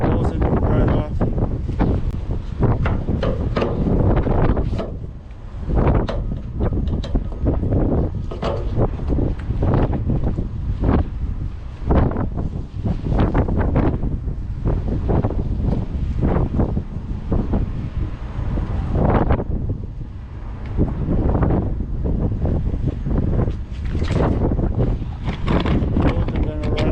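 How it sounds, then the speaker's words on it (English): Strong wind at a freezing truck stop, roaring and buffeting hard against the microphone in loud, continuous gusts while a person talks underneath. "As soon as I'm throwing a strap over, the wind blows it right off."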